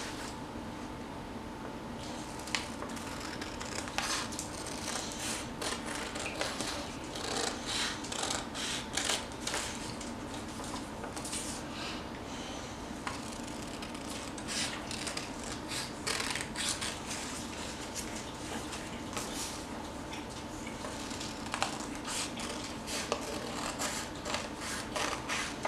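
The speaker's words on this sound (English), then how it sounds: "we're cutting around the outside rectangle of the pink one" Scissors snip steadily around the outside of a pink paper rectangle for a paper foldable, with quick, fairly faint crisp cuts over a constant background hum.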